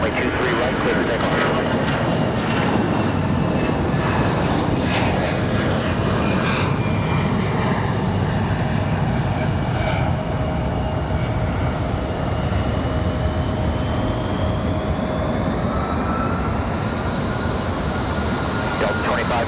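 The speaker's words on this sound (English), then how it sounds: "Icelandair 820, fly runway heading, runway 23 right, clear for takeoff." An Icelandair jet takes off from runway 23 right at Raleigh-Durham International, a loud sustained engine roar that fills the scene and swells with a rising whine toward the end, with no talk over it.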